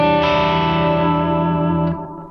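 A guitar chord through an Eventide Rose pedal's chorus effect sustains as a wide, shimmering wash, loud and steady before fading slightly near the end, with no voice over it.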